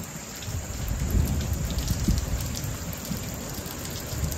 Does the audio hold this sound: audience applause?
no